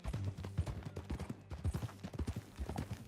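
Horse hooves clip-clopping at a steady walking pace in Red Dead Redemption 2, a close, fairly quiet series of regular hoof thuds with a faint background rumble.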